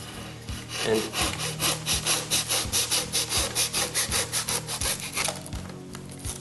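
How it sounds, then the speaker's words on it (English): A steak knife saws through a block of foam for a Black Rock Shooter prop gun, a steady rhythmic back-and-forth rasp of about twenty close strokes with no talking. "we're going to cut the foam down so that we can start shaping that"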